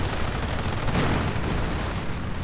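Rifle fire in a World War II strategy game battle, with riflemen pushing back grenadiers as a Panzer IV looms; dense, continuous crackling gunfire and low rumbling blasts that sound close and loud.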